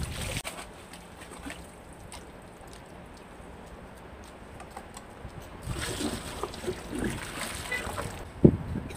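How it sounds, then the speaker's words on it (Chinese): Gardenia bonsai roots are swished and rinsed in a basin of clean water, soft sloshing and splashing that grows busier in the second half, ending in a sharper splash, with speech present. "放入清水中将药水洗干净"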